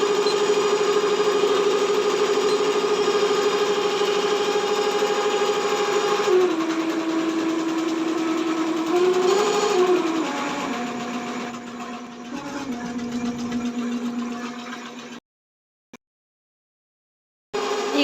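A washing machine running with clothes gives a steady electric motor hum that shifts pitch a few times as the cycle changes, then drops away to near silence, with no voices.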